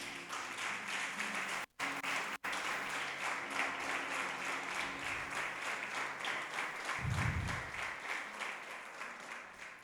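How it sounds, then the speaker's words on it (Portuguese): A church congregation gives sustained, steady applause for Jesus. Many hands clap evenly at moderate loudness, with two brief dropouts and a low rumble near the end. "Eu queria que você desse uma salva de palmas para Jesus aí."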